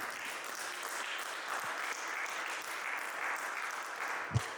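Church congregation at a Sunday service applauds, a dense, even wash of clapping heard from a distance at moderate level, with a single thump near the end.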